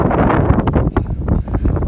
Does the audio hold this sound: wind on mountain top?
yes